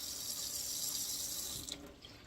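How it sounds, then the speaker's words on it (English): Water runs from a tap in a steady, faint hiss that cuts off near the end. "Get some of that fucking water flowing through there."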